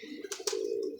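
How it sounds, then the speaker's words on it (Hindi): A purebred pigeon gives a soft, low coo, close and quiet, broken by two brief rustling bursts partway through. "ये ख़ानदानी कबूतर है ये दोस्तों"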